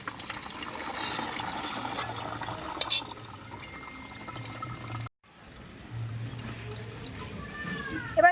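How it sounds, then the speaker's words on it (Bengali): Water from a boiled banana flower drains through a basket, making a soft pouring trickle that cuts out briefly, then resumes with faint clinks. "ঝুড়ির মধ্যে জলটা ঝরিয়ে নেব।"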